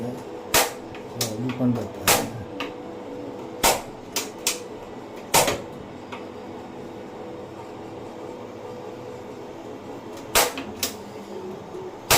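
The automatic igniter on a black and red three-burner gas stove gives several sharp, separate clicks at irregular intervals in a quiet kitchen, while a person speaks.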